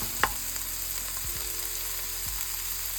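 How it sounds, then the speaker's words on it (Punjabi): Ingredients for paneer lababdar fry and brown in a pan with a steady, close sizzle, broken by a sharp clink of a utensil and a couple of stirring scrapes. "ਇਹਨੂੰ ਆਪਾਂ ਭੁੰਨ ਦੇ ਆ ਥੋੜਾ ਜਿਹਾ ਬਰਾਊਨ ਕਰਦੇ"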